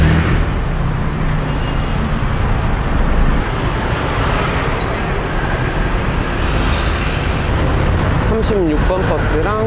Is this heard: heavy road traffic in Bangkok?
yes